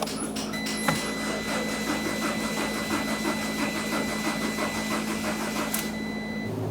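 A 1.4-liter four-cylinder engine in a 2012–2019 Fiat 500 runs steadily with a fast, even mechanical pulsing, idling alone until fuel pressure is relieved, with a brief clunk near the start.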